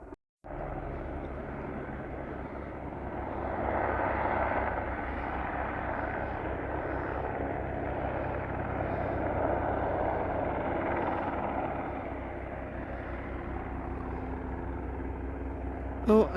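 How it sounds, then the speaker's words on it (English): Fixed-wing airplane passing over a farm during a fire, a steady engine drone that swells and fades across the pass, moderately loud and continuous with no voices. "another plane coming behind me"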